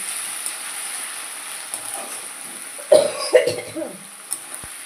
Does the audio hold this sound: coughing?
yes